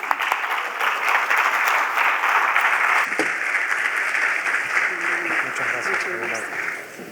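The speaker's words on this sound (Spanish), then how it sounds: "recibimos con un fuerte aplauso al señor da Silva" An audience applauds steadily to welcome a speaker at a business conference, a dense sustained wash of clapping that thins slightly toward the end with faint voices mixed in.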